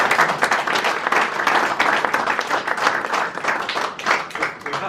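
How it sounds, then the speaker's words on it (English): A seated crowd at a men's breakfast gathering in Solihull claps steadily for a speaker, dense sustained applause filling the whole stretch at a fairly close, even loudness. "let's clap him a third time, shall we?"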